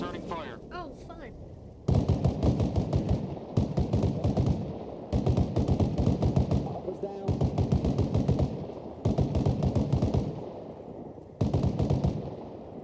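Automatic weapon fire from the video game Arma Reforger comes in repeated bursts of rapid shots, each lasting a second or two with brief gaps between them. The fire is loud and close, with radio chatter faintly underneath.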